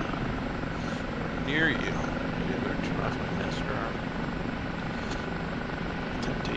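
The rotor and engine of an OH-58D Kiowa helicopter in DCS drone steadily and loudly throughout, a constant broadband whir under clear radio-style talk between several people.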